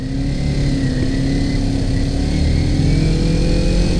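Close, loud engine of a 2018 Kawasaki Ninja 250 motorcycle accelerating, a steady mid-pitched drone with a gently rising tone and continuous road and wind rush.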